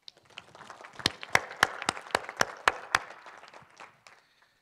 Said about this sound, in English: I would really like to give them a big round of applause.